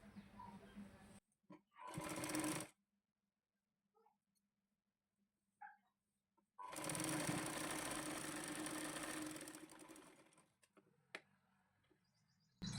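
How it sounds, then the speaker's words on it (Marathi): A sewing machine stitches a blouse in short bursts: a brief run, a longer steady whir of about three seconds, then silence with faint handling noises in between. "असं दुमडून घेऊन इथं शिलाई मारून घेणार आहोत."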